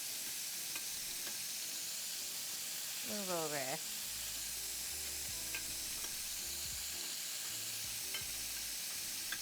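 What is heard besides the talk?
food frying and sizzling in a pan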